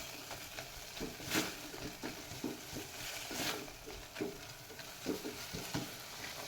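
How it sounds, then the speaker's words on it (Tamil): Ginger garlic paste fries in a pan for a vegetable biryani, sizzling steadily while a utensil stirs and scrapes in irregular bursts, close up and moderately loud. "இதோடைய சேர்த்து இஞ்சி பூண்டு பேஸ்ட்டு பச்சை வாசனை போகிற வரைக்கும் கிளறிட்டுக்கலாம்."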